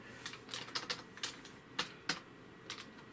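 Keys clatter on the keyboard of a mid-2007 iMac in an irregular run of close, faint taps, with short pauses between clusters of keystrokes.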